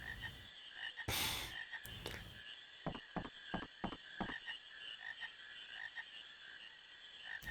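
Frogs croaking in the video game Final Fantasy IX, a steady chorus of repeated croaks with sharp rhythmic clicks and a few louder bursts over a constant ambient hum.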